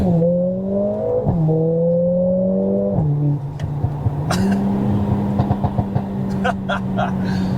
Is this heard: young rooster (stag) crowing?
no